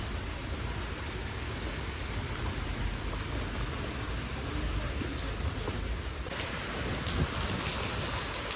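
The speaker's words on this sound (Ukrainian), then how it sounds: "дощ шпари, я без зонтика вже намокла, ноги мокрі" Heavy rain pours steadily and densely, a constant close hiss of drops striking surfaces throughout.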